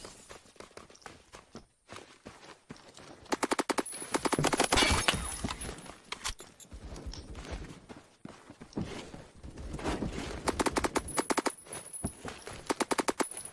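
SCAR PDW gunfire in the video game Phantom Forces, fast automatic bursts of sharp shots in several clusters, with footsteps and clicks between bursts, fairly close and without talk.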